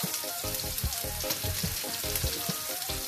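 Onions sautéing in a hot pan for ginisang monggo, a steady close sizzle with crackling spatters and occasional stirring scrapes, no talk.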